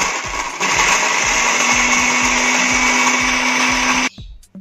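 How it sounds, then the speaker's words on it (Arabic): Electric chopper grinding kibbeh ingredients, a loud steady motor whine with rhythmic chopping pulses, starting up sharply and cutting off abruptly near the end, with no talk. "دلوقتي احنا حطيناها في الكبه، نشغلها."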